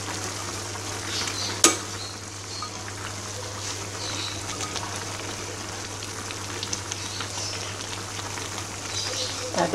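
Stir-fried ridge gourd with sweet corn and glass noodles sizzles steadily in a pan, with scraping stirring strokes and one sharp utensil knock near the start, all close by under a constant low hum.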